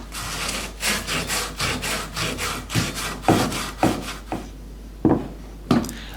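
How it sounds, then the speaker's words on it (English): Metal pieces for an airgun charging tank stand are sanded by hand with sandpaper wrapped around a length of piping, giving rhythmic back-and-forth rasping strokes, fast and even at first, then slower, separate strokes close to the microphone. "take a piece of sandpaper wrapped around a piece of piping and sand the pieces wherever needed"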